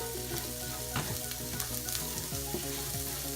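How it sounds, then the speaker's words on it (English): Garlic cloves and onions sizzle steadily in a pot for a meatball stew, a dense continuous frying hiss with occasional stirring scrapes and clinks, close and fairly loud, with no talking. "I'm going to go ahead and add my 4 cloves of garlic"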